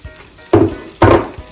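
Frijolitos, small beans, hit hot oil in a well-heated frying pan, giving two distinct bursts of crackling sizzle about half a second apart, close and fairly loud.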